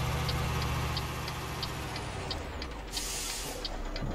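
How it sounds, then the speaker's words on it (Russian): A PAZ bus in Euro Truck Simulator 2 brakes hard, ending in a sudden loud air-brake hiss over a steady engine drone and regular indicator ticking. "Вообще затормозил жестко."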